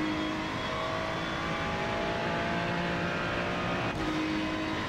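Race car engine at Mugello in iRacing, a steady loud drone with sustained engine tones held throughout and a brief dip and shift near the end, no talk.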